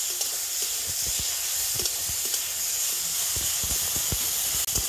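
Sliced tomatoes fry in hot oil with a loud, continuous hissing sizzle, broken by a series of soft knocks and scrapes from stirring; no one speaks.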